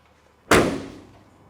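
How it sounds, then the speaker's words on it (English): A single solid door of a 1952 Chevrolet 5-window pickup truck slams shut up close, a sharp thud followed by a brief fading rattle and resonance. "Door closes well."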